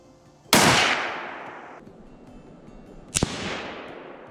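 Two sharp gunshots ring out at a live firing range, the first loud and close with a long decaying echo, the second slightly quieter about two and a half seconds later.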